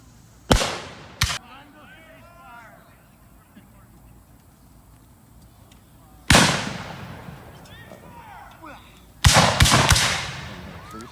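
Cannon and musket fire at a Civil War battle reenactment in a park, with several loud, sharp blasts spaced out over distant crackling shots and people talking in between.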